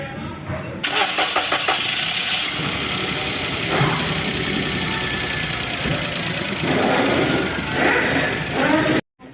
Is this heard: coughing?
no